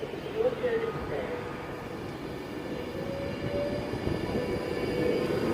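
A train passes through Wigan North Western station, a steady low rumble with faint wheel squeal, continuous and moderately close.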